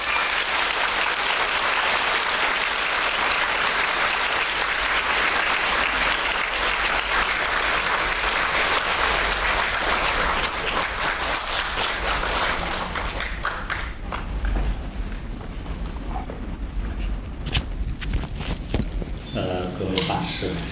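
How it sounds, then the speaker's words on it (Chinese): Warm applause from an audience at a Buddhist Dharma talk welcoming a speaker, a dense steady clatter of many hands that holds for about thirteen seconds, then thins and tapers off into quieter room noise. "我们现在呢，以热烈的掌声，"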